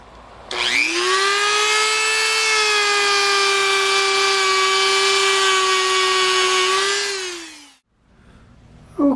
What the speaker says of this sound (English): use my Dremel tool with the wire brush